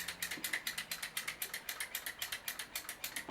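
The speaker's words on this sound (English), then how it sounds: "really good ratcheting action on them" KwikTool KTRC11 ratcheting cable cutter worked with no wire in it, giving a rapid, even run of crisp ratchet clicks, close and fairly quiet, with no voices.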